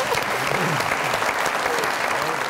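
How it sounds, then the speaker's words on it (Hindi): Loud, dense applause from a television comedy show studio audience, continuous and close throughout. "कायम अली शाह साहब को बहुत सारी तालियां मैडम के लिए"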